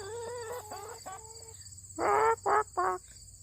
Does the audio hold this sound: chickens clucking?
yes